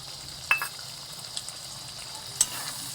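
Chopped tomato sautéing in a pan, a low steady sizzle broken by two brief spatula clinks against the metal.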